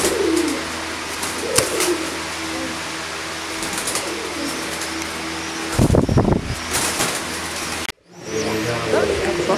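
Pigeons offered for sale coo in a loft, with repeated low burbling calls over a steady background hum and occasional rustling and wing flaps nearby.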